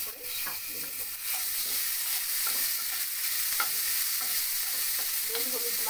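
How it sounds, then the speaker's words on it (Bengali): Salted, turmeric-coated prawns frying in a little oil in a pan, a continuous loud sizzle with occasional stirring scrapes and pops, heard alone without talk. "সেই চিংড়ি মাছকে আমি অল্প তেলে সাঁতিয়ে নিচ্ছি।"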